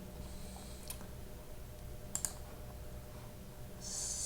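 Faint computer mouse clicks, a few sharp isolated ticks spread over a quiet background hum, no talk.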